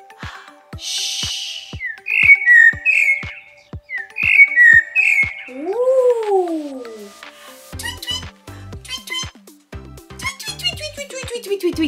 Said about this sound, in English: The bird says tweet, tweet, tweet